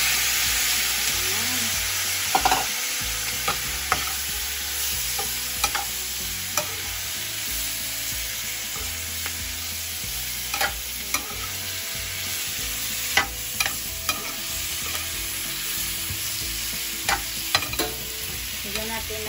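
Sliced zucchini sautés in a pan, a continuous bright sizzle under repeated scrapes and taps of a utensil stirring it, close and steady with no talking.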